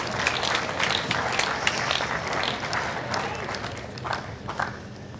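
At the 2015 Australian Open women's singles final, a tennis stadium crowd applauds a shot with a dense, steady patter of clapping that swells and then thins over several seconds.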